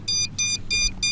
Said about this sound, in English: And it starts beeping